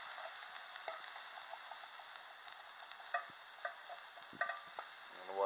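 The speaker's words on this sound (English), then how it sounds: "Give it a bit of a stir." Eggplant and mushroom get stirred in a frying pan over a faint, steady sizzle. Light utensil taps and scrapes come at intervals, close by and quiet, with no talking.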